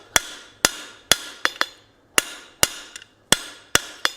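A hammer forges spline stock for a decorative coal rake on an anvil, about a dozen sharp, ringing blows struck close by in an uneven rhythm, with brief pauses between groups.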